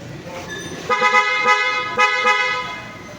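A newly installed PIA horn on a Honda CR-V honks in several short bursts, loud and close, with a brief pause between blasts.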